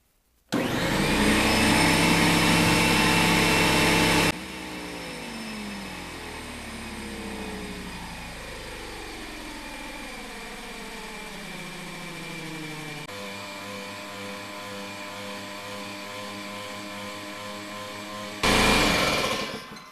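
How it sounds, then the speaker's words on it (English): A DeWalt 225 PSI air compressor runs close by with a loud motor whine that drops into a steady droning hum, its pitch shifting as pressure builds, then surges loud again near the end. "it's still not the loudest air compressor I've ever been around"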